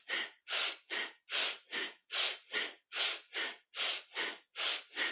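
Rhythmic yoga breathing in a kundalini session, quick forceful inhales and exhales with shoulder lifts, about fifteen close, loud breaths in an even pulsing pattern and nothing else heard.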